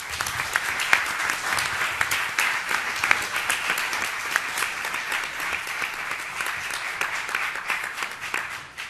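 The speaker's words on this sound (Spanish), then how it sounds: "Un aplauso a Paco? Claro que sí." Audience clapping at a round-table panel on Hugo Pratt and Corto Maltese, a steady, fairly loud roomful of applause lasting several seconds with no talk over it.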